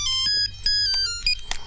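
A mobile phone rings in a scene from the film Nayak, its bright electronic melody of quick repeated tones sounding close and alone.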